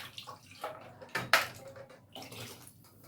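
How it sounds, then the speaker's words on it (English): Water poured into a cooking pot of chicken for Ghanaian light soup, a soft uneven splashing and sloshing with a brief louder clatter of the pot midway, fairly quiet and close. "So I'm adding enough water."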